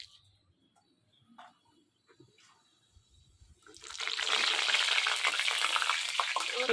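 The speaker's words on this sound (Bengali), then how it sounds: "তেল গরম হয়ে গেছে, শুকনো লঙ্কা আর জিরে দিয়ে দেবো।" Dried chillies and cumin hit hot oil in a Bengali home kitchen while fish curry is being cooked. After a few soft clinks, a loud, steady, crackling sizzle bursts up and keeps going close by, with no talking.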